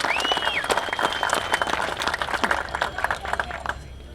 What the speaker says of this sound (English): round of applause for Jay D'Angelo